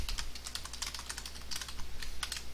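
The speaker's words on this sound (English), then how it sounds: "Now I press the left key on my keyboard." Rapid, close computer keyboard key presses, a dense run of light clicking keystrokes with no speech over them.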